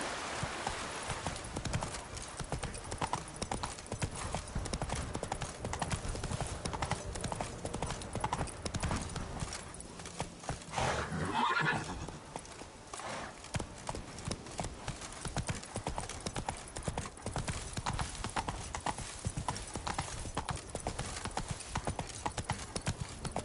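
Roach, a horse in the video game The Witcher 3, gallops with a steady, rapid clip-clop of hooves that continues throughout, fairly close and even, with a brief break in the rhythm near the middle.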